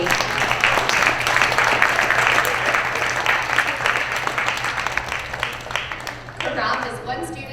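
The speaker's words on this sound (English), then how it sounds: "Let's give all of our sixth graders a round of applause" Applause for sixth graders at a school assembly, a broad wash of clapping from the audience that fades toward the end as a voice begins speaking.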